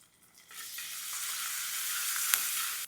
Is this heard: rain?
no